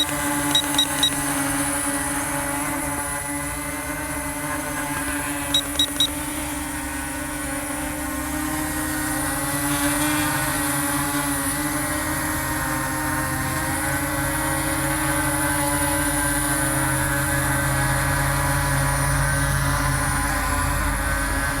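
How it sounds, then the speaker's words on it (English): A Fader Hawk+ drone in flight gives a steady, loud, whining motor and propeller hum that holds for the whole stretch, with a few faint beeps near the start and no talking. "this is definitely not a DJI drone"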